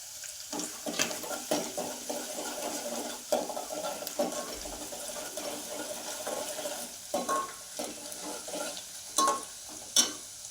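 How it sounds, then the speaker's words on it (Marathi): Mutton is tipped into a pan over roasted onions and fries with a soft, steady sizzle, broken by repeated scraping stirs and a few sharper clinks of the spoon against the pan. "ते सगळं भाजलं की त्यामध्ये मटण टाकूया"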